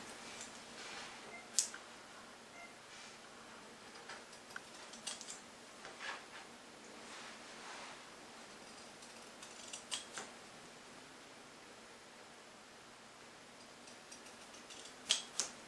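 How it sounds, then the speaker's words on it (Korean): Pinking shears cut fabric to make carnation flower petals, producing a series of quiet, crisp snips and clicks at irregular intervals over faint background hiss, close and soft. "꽃잎을 연출을 해주기 위해서는 핑킹 가위로 먼저 재단을 해주셔야 되고요"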